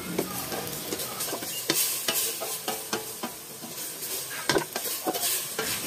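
Chopped pork hock sautés in a hot pan, sizzling steadily while a spoon scrapes and clatters against the metal in quick, repeated strokes, close by with no talk.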